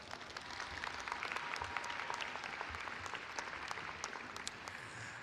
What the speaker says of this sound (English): giving your parents and family members and friends a round of applause